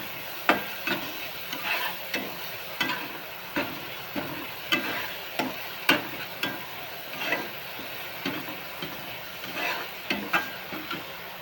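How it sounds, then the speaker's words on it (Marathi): Tomato frying with onion in a pan for masala vangi, a steady sizzle broken by repeated scraping stirs of a spoon, roughly one every second, close and fairly loud. "टोमॅटो टाकून घेतला आता तो चांगला मऊ होईपर्यंत भाजायचं."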